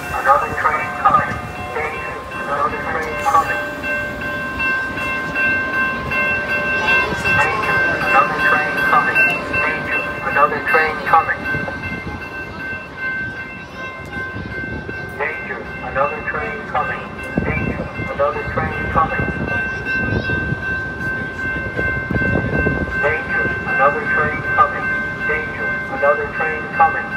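A Metra commuter train passes through Elmhurst station during the evening rush: a loud, steady rumble and rattle of rail cars with a sustained tonal whine, and a repeating automated announcement heard above it.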